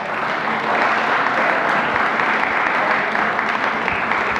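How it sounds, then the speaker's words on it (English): A class of medical students applauds during a lecture, a steady, dense round of clapping that holds at even strength throughout. "let us give a good round of applause for the class so far"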